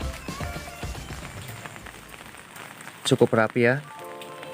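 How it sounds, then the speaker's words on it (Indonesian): A light drizzle falls over potted ornamental plants on a front terrace, a soft steady patter beneath a person talking. "ditambah dengan suasana hujan, suasana gerimis"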